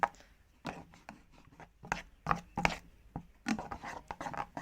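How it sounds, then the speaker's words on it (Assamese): An egg is beaten into a paste of ground henna leaves, heard as a close, quiet series of irregular soft slaps and scrapes from whisking in a bowl, with pauses between strokes. "ডিমটো দিয়াৰ পিছত মই ভালকৈ পেষ্টখিনিত ফেটি ল'ম।"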